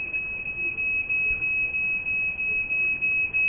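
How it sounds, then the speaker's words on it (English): A household smoke alarm going off indoors, a loud, piercing, steady high-pitched tone pulsing in rapid repeated bursts, close and alone with no talk. "Smoke alarm just decided to fry a piss fit and go off on me."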